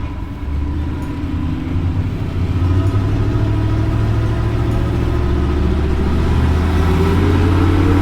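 A car engine drones steadily through a two-wheel drive test run, a low rumble with a mid-pitched tone that gradually rises in pitch as the vehicle accelerates, loud and close, with no talking.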